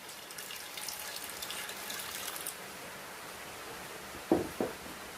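Water pours steadily into a pressure cooker holding lentils with curry leaves, turmeric and salt, a soft continuous splashing stream that stops, followed by a couple of light knocks.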